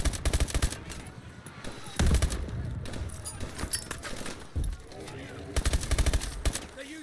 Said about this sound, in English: They're using MMGs.